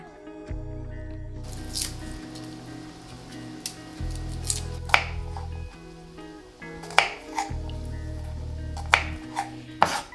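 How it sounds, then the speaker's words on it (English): Knife chopping garlic and ginger for a ground turkey meal prep, heard as clusters of close, sharp taps on a board in bursts, with a low background hum between. "I'll start chopping off some garlic and some ginger"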